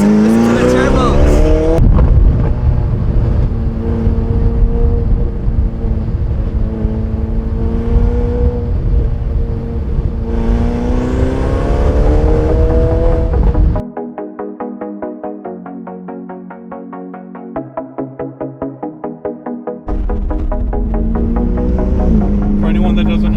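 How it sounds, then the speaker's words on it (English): A Ferrari 488 GTB fitted with stage 2 upgraded turbos roars loudly with a rising, harmonic engine note through several gear pulls, then drops to a lighter pulsing idle before revving back up. "Listen to the turbos."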